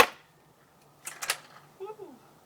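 Modded Walmart paintball gun fires with a sharp snap, followed by a short pair of clicks a moment later, close and fairly quiet, with a brief voice at the end.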